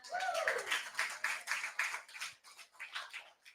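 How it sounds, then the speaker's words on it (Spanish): Church congregation clapping as an offering to the Lord during a bilingual Spanish-English service, a burst of claps that thins out, with some voices mixed in. "Give the Lord a clap offering."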